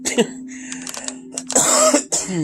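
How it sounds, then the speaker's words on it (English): Someone clears their throat and coughs in a few rough bursts, with a steady low hum running underneath. "So if you hear coughing in the background, that's why"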